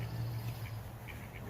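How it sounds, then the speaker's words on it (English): Ducks quack at a natural lake where ducks and geese gather, with a few calls over a low steady hum and no talking. "Ducks and geese, they hang out in this area."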